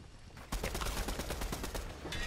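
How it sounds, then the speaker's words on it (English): Rapid automatic gunfire from the video game Fortnite, a steady burst of closely spaced shots beginning abruptly after a brief quiet moment and continuing loud and close for about two seconds with no talk. "He's shooting you."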